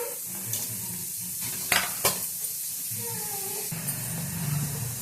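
Onions sizzle and crackle steadily in oil in a hot pan, with occasional scraping stirs and clinks; fairly quiet and close, without any talk.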